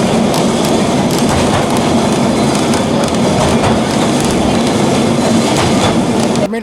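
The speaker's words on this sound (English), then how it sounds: "We jumped on a tram." A tram rattles through the streets of Lisbon, its wheels clattering and rumbling steadily on the rails, loud and close from inside the car, with a few sharp clacks over the constant roar.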